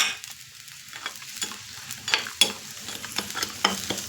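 Fried chillies tipped into hot curd curry and stirred, giving a soft sizzle with scattered clinks and scrapes of a spoon against the pan that grow more frequent toward the end, heard close with no talking.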